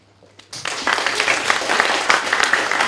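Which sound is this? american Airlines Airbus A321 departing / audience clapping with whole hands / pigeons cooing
audience clapping with whole hands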